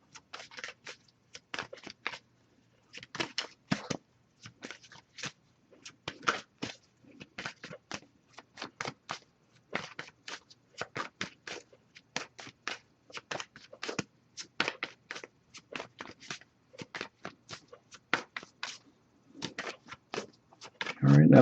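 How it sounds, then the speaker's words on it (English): Tarot cards being shuffled by hand, a quick close run of crisp riffling bursts repeated again and again with short pauses between, quiet and dry, with no talk over them. "Okay, nothing coming up, but I'll give it a few more shuffles."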